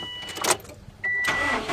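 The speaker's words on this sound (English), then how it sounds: "I'm going to go ahead and start the car up here." A sports car engine starting up: brief starter whir and clicks, then after about a second the engine catches and settles into a steady, fairly loud idle close by, with no one talking.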